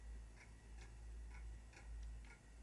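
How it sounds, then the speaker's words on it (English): Old pendulum clock ticking in the horror game Spirit Hunter NG: soft, steady ticks about every half second, faint against a low hum, with no talk. "An old pendulum clock. Pendulum swings without stopping."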